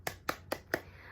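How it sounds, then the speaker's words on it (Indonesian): A class of children applauding group 1 in a classroom, four soft separate claps heard faint and nearby, with quiet background voices. "Beri tepuk tangan untuk kelompok 1."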